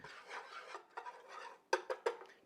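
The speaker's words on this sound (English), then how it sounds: "I'm going to whisk this until it's a nice paste" Whisk scraping and rubbing through a flour and butter roux in a pot as it thickens to a paste, with soft rasping strokes followed by three sharper taps near the end, quiet and close, no talking.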